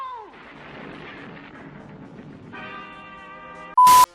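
A huge explosion attack in the AdventureQuest Worlds game lands as a swelling, rumbling blast that fades, followed by a sustained ringing tone and a sudden loud burst at the end.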